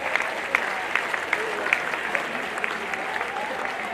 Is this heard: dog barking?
no